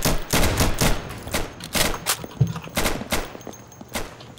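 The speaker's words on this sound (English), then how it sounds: "Oh, getting shot from behind." Repeated gunfire in the tactical shooter game Insurgency, including shotgun slug blasts, comes as a string of loud, sharp shots spaced unevenly through the clip with no talking.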